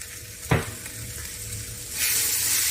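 Chicken filling with garam masala being stirred in a hot pan, a steady close sizzle with one sharp scrape of the spoon early on and a brighter frying hiss swelling near the end.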